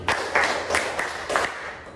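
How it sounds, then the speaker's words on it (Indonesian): A school class claps hands on command in a few loose group bursts, spaced apart and moderately loud. "tepuk 1 kali, tepuk 2 kali, tepuk 5 kali"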